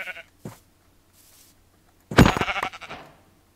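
Sheep in the Minecraft video game give a loud, close bleat burst with a few rapid follow-up calls near the end, after brief quieter game noises and long near-silent gaps.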